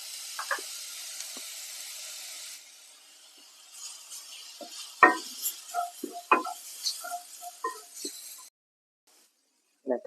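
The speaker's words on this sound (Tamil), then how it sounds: "இதில் கொஞ்சம் இஞ்சி பூண்டு பேஸ்ட் போட்டுப்போம்" Ginger garlic paste sizzles quietly in a pan for white peas masala, with sharp clinks and scrapes of a spoon stirring it, the sizzle fading before the stirring grows busier.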